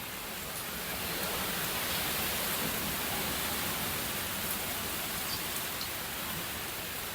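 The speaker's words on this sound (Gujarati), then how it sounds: "પવન અતિશય છે" A constant broadband roar of wind, steady and loud from start to finish, with a rain-like hiss mixed in.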